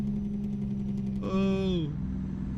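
A throaty truck engine in American Truck Simulator holds a steady low drone, with one brief rev that rises and then falls away partway through.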